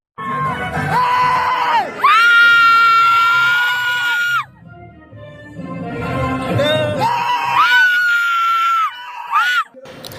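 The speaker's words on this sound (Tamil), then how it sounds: "படத்தில் அப்படியே பயங்கரமாக கத்தி கூச்சல் போட்டு டயர்டாயிடுச்சு." Cinema audience at a Thalapathy movie screaming and shouting in loud surging bursts, long sustained shrieks rising over a dense crowd roar, with a brief lull midway before the yelling swells again.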